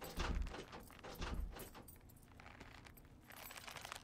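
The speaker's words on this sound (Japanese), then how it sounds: "鍵開けてる" Keys jangle and rattle in a lock as a door is unlocked in a horror game set in an apartment, faint and close, with two clustered metallic bursts followed by softer scraping and clinking.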